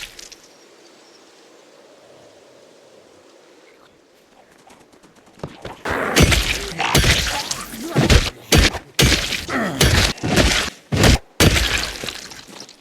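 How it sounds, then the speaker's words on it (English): In the survival game Project Zomboid, zombie heads are smashed in a run of loud, close, heavy thwacks and crunchy breaking hits after several seconds of quiet ambience. "The noise of smashing heads is bringing more zombies here."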